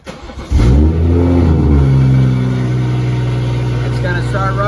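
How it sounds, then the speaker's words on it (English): A Mercedes M240 engine cranks and catches, then settles into a steady, loud running hum, close by. "So now you're gonna start the car."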